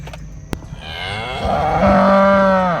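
A cow moos loudly and close by at morning milking, one long drawn-out low call that swells and holds, following a sharp click, with no talk.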